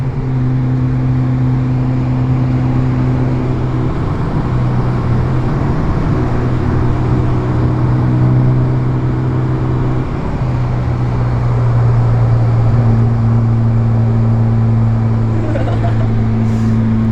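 A car engine runs steadily and loud, holding a low droning hum with shifting pitch as it revs up and eases off, close by and without talk.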